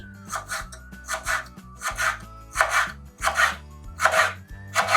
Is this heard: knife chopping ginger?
yes